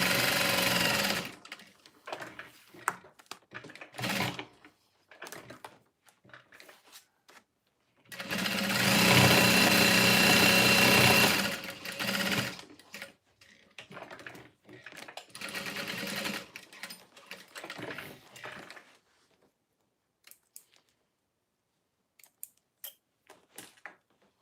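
A sewing machine stitches down one side of a seam at stitch length 5 in a steady, loud burst of several seconds, with talk before and after.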